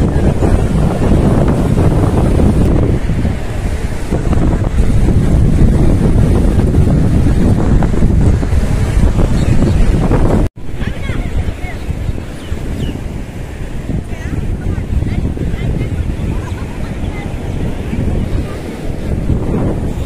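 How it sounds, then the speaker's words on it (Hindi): Loud ocean waves crash and wash continuously at Juhu beach in Mumbai, with heavy wind buffeting the microphone and a brief cut midway before the surf roar resumes. "लहर कितनी ज्यादा है यहाँ पे।"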